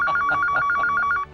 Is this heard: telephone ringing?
yes